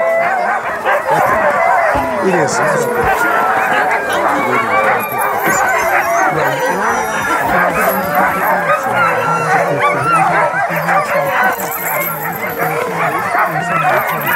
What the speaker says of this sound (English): All of our dogs are very friendly.